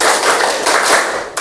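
Schoolchildren in a classroom clap together while counting along with their teacher, making a rapid run of crowded, overlapping clap volleys at a steady beat, loud and close, ending in one sharp final clap.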